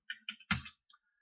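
A few crisp clicks of keys on a computer keyboard, including a press of the S shortcut key, a quick run of light taps followed by one firmer click and a faint final tap, close and isolated.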